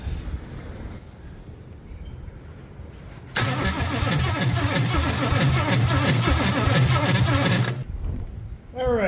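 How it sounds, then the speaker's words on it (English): An old Ford 460 V8 with a mouse nest in its exhaust manifold cranks over for about four seconds in a loud, rhythmic churning burst, then stops without catching, after a quieter stretch. "Let's see if we got crankage."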